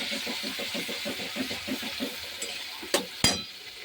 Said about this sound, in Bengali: কড়াইতে দিয়ে দিলাম